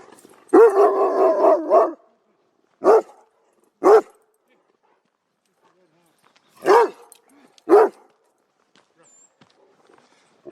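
A dog barks in the open during a run up a steep trail under a forest canopy, with a rapid cluster of barks followed by four single barks spaced a second or more apart, loud and close.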